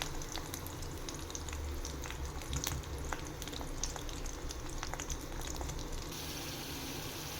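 Fenugreek seeds and amla frying in hot oil, a constant dense crackling sizzle with scattered pops, close and steady throughout.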